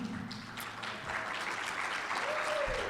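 An audience at a school Founders Day event claps in a sustained round of applause, close and dense, continuing without pause.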